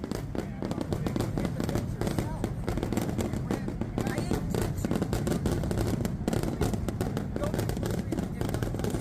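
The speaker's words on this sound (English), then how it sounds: "Fireworks are too loud." Dense, continuous fireworks crackle and pop in rapid, overlapping bursts at close range, loud and unbroken throughout, with voices faintly mixed in underneath.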